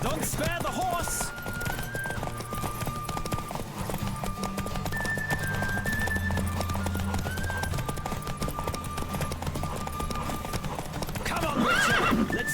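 A horse in The Witcher 3 gallops with a rapid, steady clip-clop of hooves and lets out loud whinnies near the start and end, close and continuous under game music.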